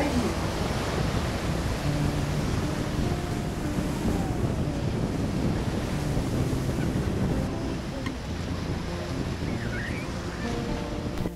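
Wind and surf on a beach in Tulum on the Caribbean coast make a steady loud rushing roar, with wind buffeting the microphone throughout.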